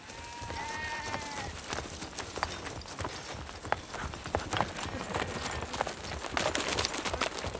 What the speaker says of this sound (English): They awaken to the sound of the horses, which each morning cross the steppe